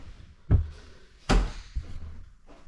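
An inexpensive Home Depot sliding shower door in a master bathroom is shoved along its track, giving a few hollow thunks and knocks with short rattly slides in between, all close by.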